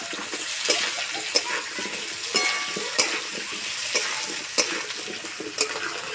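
Sliced onions added to potatoes frying in oil, a steady sizzle broken by regular scraping stirs of a spatula against the pan roughly every second, close and clear, with no talking.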